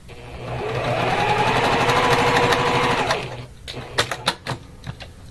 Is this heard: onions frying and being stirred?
no